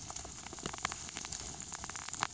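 Rain falling steadily outdoors in a forest where mushrooms grow, a dense patter of close drops with scattered louder ticks on nearby surfaces, heard alone without talk.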